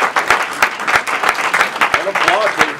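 Audience applause at a political plenary on representative democracy, brisk rhythmic clapping from a crowd carrying on steadily under a speaking voice.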